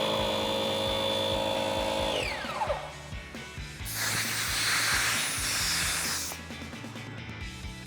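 An air pump fills a CoveRex inflatable camper topper on a Jeep Gladiator JT bed: a loud droning motor hum whose pitch sweeps down, followed by a broad rushing hiss of air for a few seconds before settling back to the motor drone.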